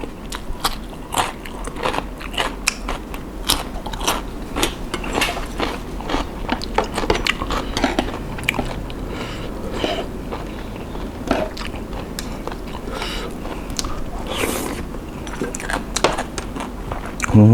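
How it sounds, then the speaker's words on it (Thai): Someone eating grilled squid with dipping sauce and spicy papaya salad, with repeated close crunchy bites and chewing spread over the clip, no talk. "กินกับหมึกย่างเนี่ย อร่อยมาก"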